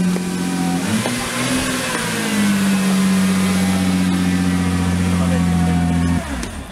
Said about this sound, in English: GTR startup.